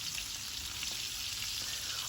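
Green beans sizzle and crackle steadily in hot oil, a continuous close-up frying hiss with small pops and no talking.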